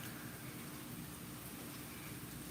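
Heavy rain from Hurricane Ian falls in a steady, dense hiss, faint and unbroken, with no voices and no distinct drops standing out.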